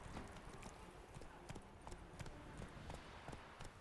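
Roach, the horse in The Witcher 3, gallops steadily with a rapid, even clip-clop of hooves at moderate distance over a constant game soundscape.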